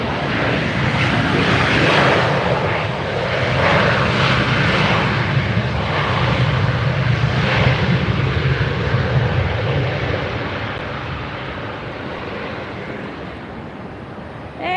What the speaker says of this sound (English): Another United flight